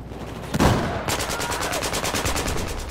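A suppressed gun fires in the video game Battlefield 4: after a heavier thump, a rapid, evenly spaced string of about fifteen muffled shots runs steadily to the end, close and fairly loud.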